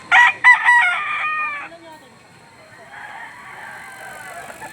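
Rooster crowing at the Lipa poultry auction market, a close loud cock-a-doodle-doo opening the moment, followed by softer clucking and fowl noise in the background.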